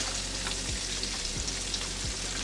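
Broccoli florets sizzle steadily in hot oil in a pan for a chicken stir fry, a dense continuous crackle with a few soft low thumps, no talking.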